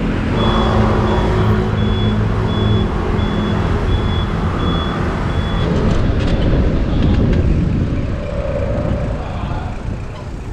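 A car drives slowly through busy traffic while hunting for a parking space, with a steady loud road rumble, engine drone and a repeating beep under it throughout.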